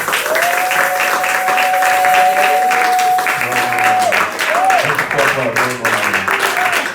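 A congregation at a Sunday church service applauds loudly and steadily throughout, with a sustained musical tone and voices rising over the clapping.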